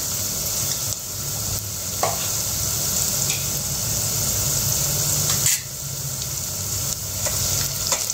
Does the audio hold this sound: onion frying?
yes